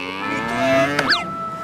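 A cow lets out one long, loud, close moo that ends in a short rising call, with no talk over it.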